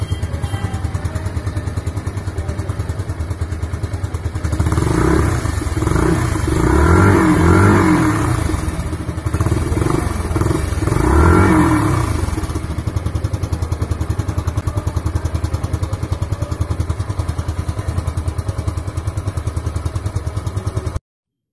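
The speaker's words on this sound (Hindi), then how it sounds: "अब मैं आपको इस बाइक का एग्जॉस्ट नोट सुना देता हूँ।" A Yamaha SZ-RR 2.0 motorcycle exhaust idles with a steady, close putter, then swells through a couple of throttle blips and revs before settling back to idle.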